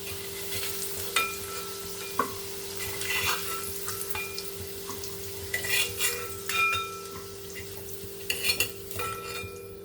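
Potatoes fry in oil in a pan, a continuous close crackling sizzle broken by scattered clinks and scrapes of a utensil as the pieces are lifted out, with no talking.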